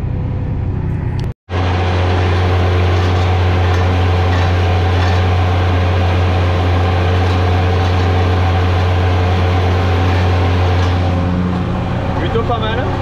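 Valtra N155 tractor running at 1840 rpm, heard from inside the cab: a steady, loud low engine hum with a strong droning tone that continues throughout, broken once by a brief cut near the start, while someone talks over it.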